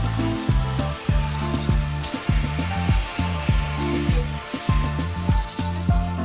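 An angle grinder with a broken switch grinding down welds on an Alfa Romeo 145 Cloverleaf car body: loud, close, harsh whine that rises and drops in repeated pulses as the disc is pressed on and eased off the metal.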